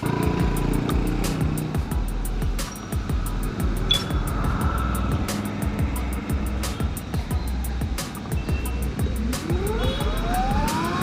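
An Ultraviolette F77 electric motorcycle, switched into combat mode and pulling quickly, rides with steady wind and road rush throughout and a thin motor whine rising in pitch near the end, with no voices.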